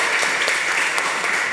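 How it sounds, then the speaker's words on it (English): Loud, dense applause from an audience at a tech talk event, many hands clapping steadily and close for about a second and a half, without voices on top. "let's give another round of applause for our gracious host, Grace."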